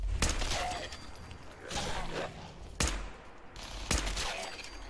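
Gunfire in the video game Fallout 4, heard as four loud, evenly spaced shots about a second apart, each a sharp crack with a brief rumbling tail over a steady background.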